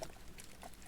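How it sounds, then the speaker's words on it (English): Warm water pours into a citric acid bath set up for de-rusting a PC case, a brief, faint wet splashing trickle lasting under a second. "put some warm water in this to help dissolve the citric acid"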